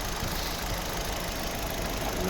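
A 2008 Opel Zafira with a 1.8 MPi petrol engine idles steadily, a continuous even running hum with a faint hiss, close and constant throughout with no voices.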